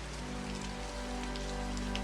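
Rain falls on a glass pane as an unbroken, gentle hiss of droplets, close and steady throughout, with no one speaking.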